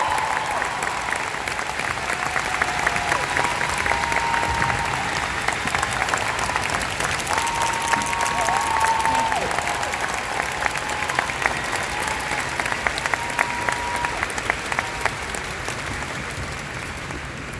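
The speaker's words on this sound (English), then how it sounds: "They deserve a huge round of applause." Sustained audience applause at a seminar, a dense steady roar of many hands clapping that continues throughout at even loudness.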